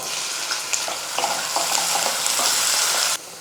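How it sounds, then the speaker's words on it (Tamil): Green chillies and thinly sliced capsicum sautéing in a pan, with a loud, steady sizzle and scattered stirring scrapes close by that cut off abruptly near the end. "நம்ம சேர்த்துக்கிட்ட பச்சை மிளகா கொடை மிளகா எல்லாம் வந்து நல்லா வதங்கிடுச்சு"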